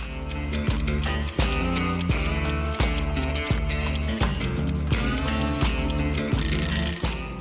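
A telephone rings with a bright, melodic ringtone that repeats in steady pulses, loud and continuous with no voices.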